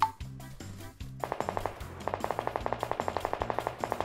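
Gunfire in the mobile shooter PUBG Lite: a few heavy thumping shots followed by a long rapid automatic burst of evenly spaced cracks, fairly close and loud, with no voices.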